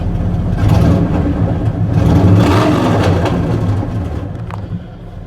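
A truck engine revs up once, a loud close rising roar that holds and then settles back toward idle, with no talking.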